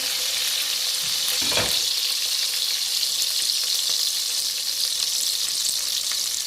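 Garlic crackling and sizzling steadily in hot oil for dhaba-style maash dal, close and constant, with a brief clink of a utensil near the start.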